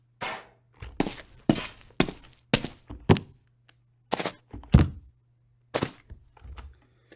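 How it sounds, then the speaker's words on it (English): Character landing sound effects in a Unity video game play as a series of about a dozen separate short, punchy thuds at irregular intervals, with silence between them. "So when we play, it also has a land sound now."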